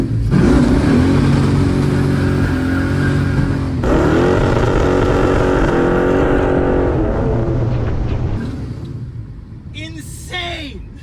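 A 1965 Plymouth Barracuda with a 360 engine runs loud and close, revving in rising and falling sweeps before dropping back toward a rough idle, with voices talking over it.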